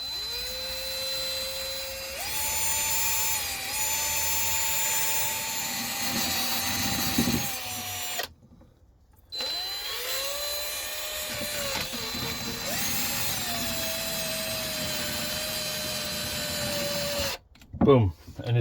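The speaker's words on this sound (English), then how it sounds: "Okay, and then we've got the drill." A power drill spins a fishing reel to strip off the old line, whining steadily in long runs with its pitch rising and falling and a short pause in the middle, while a person talks over it.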